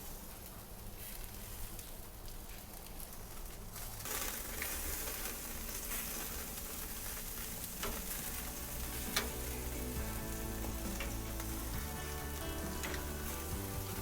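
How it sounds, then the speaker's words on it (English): Continuous crackling sizzle of skilpadjies, South African caul-fat-wrapped liver rolls, on a hot grill, steady and close, growing louder partway through with occasional pops and scrapes. "if we hear the sizzling sound, we know we're on the right track"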